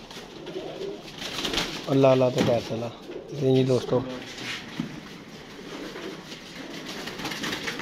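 Pigeons coo in two clear bursts of soft, throaty calls, set over a steady outdoor hum, while someone talks nearby.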